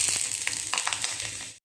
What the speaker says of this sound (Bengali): ফোড়নটা আমার ভাজা হয়ে গেছে